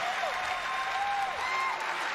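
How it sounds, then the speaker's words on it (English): A crowd cheers and applauds at the Bethesda E3 2019 conference, a continuous, even roar of clapping filling the whole moment, with a few faint whistles rising above it. "Stop cheering."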